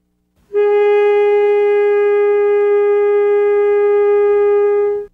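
A saxophone mouthpiece blown on its own gives one steady, loud, buzzy tone that holds for about four and a half seconds and then stops cleanly.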